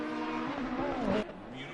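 A race car in Assetto Corsa Competizione screams past toward the finish line at the Zolder circuit, its engine note rising then cutting off abruptly, heard under a commentator's talk.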